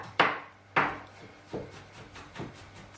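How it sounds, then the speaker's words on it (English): Ginger being roughly chopped with a knife on a board: a few sharp, close knocks, two loud ones followed by softer, fading strokes, with no talking. "Now we're just gonna roughly chop"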